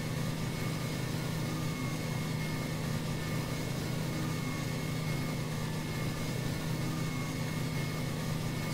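A tractor engine in the Farming Simulator 15 video game runs at a constant idle, a steady close drone with no change in pitch or loudness.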